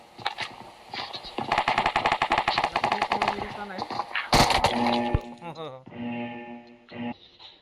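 Video game gunfire rattles off in rapid machine-gun bursts, followed by heavy impacts and shattering crashes, with a person talking over the shooting.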